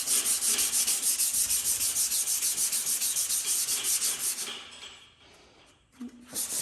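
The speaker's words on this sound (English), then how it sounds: "that does need a fair bit more sanding" Sandpaper of 120 grit rubs back and forth over body filler on a Ford XA Falcon fender in fast, even rasping strokes. The strokes are close and steady, then taper off near the end, followed by a brief knock.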